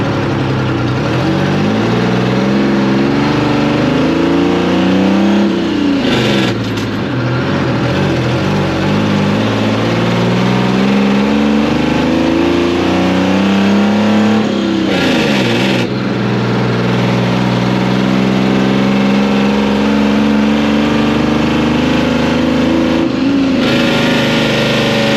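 A 1975 International Loadstar 1850 truck engine runs loudly and close up, its pitch rising and falling through repeated revs over a rough, continuous drone with no talking.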